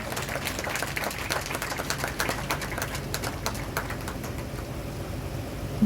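Applause fills a hall at a requiem Mass in Dighia. The clapping is dense and sustained, with many hands striking irregularly at a fairly loud, even level throughout, and no voices over it.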